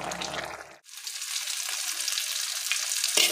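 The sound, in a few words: frying garden greens with onion and green chilli in oil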